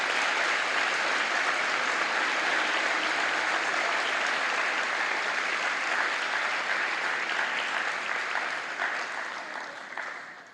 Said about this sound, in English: So let's please give a round of applause to Dana Doucette, Peggy Gallagher, and Joyce Braga for their dedication.